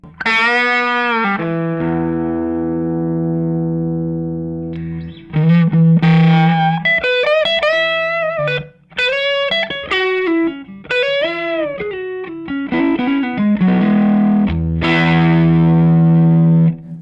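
An electric guitar plays through a Colby amp set with more gain and the low mid switch up: long sustained chords ringing out, then a busier run of distorted single notes and chords, loud and alone.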